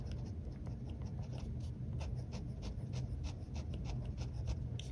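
A fine-nib Waterman fountain pen scratches across paper in quick, repeated strokes, a soft, close and dry rasp with no talking.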